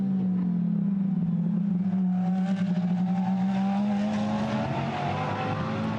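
GT race cars in the 2013 FIA GT Series main race at Slovakia winding through a right-hand corner, a loud sustained engine drone rising steadily in pitch as the cars accelerate out of the bend, with no voices over it.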